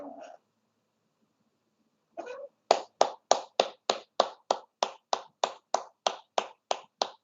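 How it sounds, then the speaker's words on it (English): A single clap opens, a pause follows, then a steady run of about fourteen sharp hand claps in an even rhythm, close and crisp, with no talking as part of a clapping exercise for health. "Do clapping."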